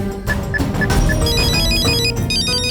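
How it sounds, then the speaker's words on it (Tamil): A mobile phone ringtone plays in a Tamil TV drama scene, a bright repeating melodic tune over background music, steady and fairly loud with no talk over it. "ரிங் அடிக்குது பாரு, அதான் என்னோட நம்பர்."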